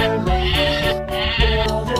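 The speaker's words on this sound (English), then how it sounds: "This a sheep." A sheep bleats loudly and close by, a wavering continuous cry with a short break in the middle, alone with no talk.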